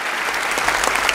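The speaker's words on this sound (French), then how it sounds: "Un tonnerre d'applaudissements, s'il vous plaît, pour Nina" Applause breaks out as a woman is called up at the finale of a Top Girl model contest, a brief burst of crowd clapping with a few louder individual claps rising toward the end.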